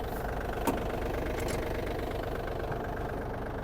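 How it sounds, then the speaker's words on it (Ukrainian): Japanese Yanmar FX-255 mini tractor engine running in first speed with the PTO engaged, driving a rotary tiller; a steady, continuous close-up drone holds without a break, with no voices. "давайте включимо вал відбору потужності. Це у нас перша швидкість."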